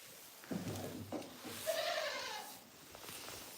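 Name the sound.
goats bleating in a barn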